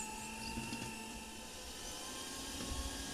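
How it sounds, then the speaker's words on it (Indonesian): An electric mixer on low speed whirs steadily through powdered sugar and margarine for brownie batter, a constant, fairly faint hum with no pauses and no speech. "Kemudian ini kita mix menggunakan mixer dengan kecepatan rendah aja dulu."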